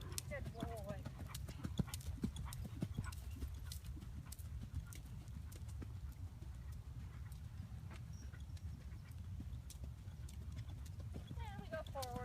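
The horse Draco canters, his hooves clip-clopping in a steady, quiet rhythm that runs under a rider's talk throughout.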